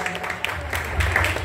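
Crowd at a Ganpati pandal in Borivali's Govind Nagar clapping for honoured guests, a moderate, steady patter of applause with a murmur of voices mixed in, swelling slightly toward the end.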